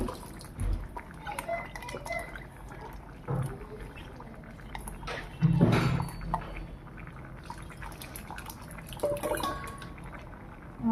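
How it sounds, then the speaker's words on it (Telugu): Tamarind water poured into a pot while cooking tomato dal, a soft liquid splash with a fuller gurgling burst midway through, over quiet kitchen background. "చింతపండు వాటర్ వేసుకుంటున్నాను"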